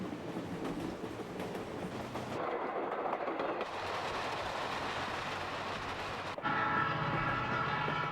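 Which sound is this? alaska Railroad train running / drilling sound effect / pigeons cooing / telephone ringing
alaska Railroad train running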